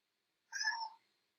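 A single short cat meow, clear and isolated against silence, played back as an audio clip in Ableton Live 9.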